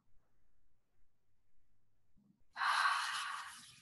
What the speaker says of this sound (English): Just taking a nice long deep breath,